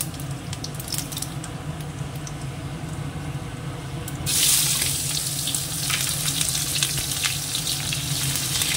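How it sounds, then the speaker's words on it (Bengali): Onions going into hot oil with two dried red chillies and cumin seeds, a steady close sizzle that swells louder and brighter midway as they hit the pan, with faint running water behind. "এর মধ্যে দিয়ে দেবো পেঁয়াজটা,"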